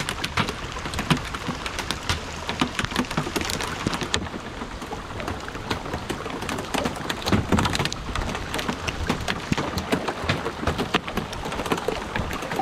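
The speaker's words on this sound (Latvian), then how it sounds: "Krusa." Hail pelts down during a storm on a river boat trip, a dense continuous patter of hard, crackling hits close by throughout, with no voices.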